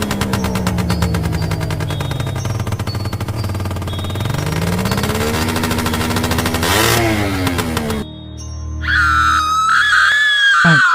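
A cartoon scooter's engine buzzes loudly and steadily, its pitch rising and sweeping as it pulls away, followed by a sudden switch to a shrill, wavering scream-like cartoon sound.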